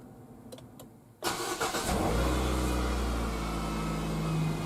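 Nissan Qashqai J10 engine cranks and catches after a short stretch of quiet, then settles into a steady, loud close-up idle with a low hum that keeps running to the end.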